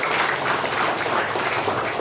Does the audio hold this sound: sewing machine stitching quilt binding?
no